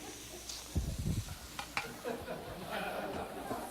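Onions and sausage frying in a pan on a home stove, a low sizzle with a few stirring knocks and scrapes up close, while a voice talks over it.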